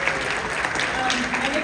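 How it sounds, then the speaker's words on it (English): A crowd at a horror-fan convention panel gives steady applause, a dense continuous patter of clapping at moderate volume with no break. "Round of applause for Kid."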